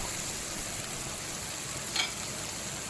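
Steak coated in mac and cheese powder rub searing in hot corn oil in a cast iron pan, a soft steady sizzle with one brief louder crackle near the end, no talking.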